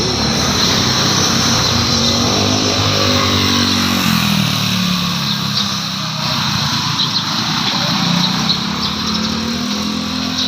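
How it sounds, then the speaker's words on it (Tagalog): Engines of passing vehicles, including motorized tricycles, roar loudly and continuously along a roadside, a dense, unbroken motor rumble with shifting pitch as traffic moves by. "Ang layo din pero abot pa rin dito yung ingay ng makina."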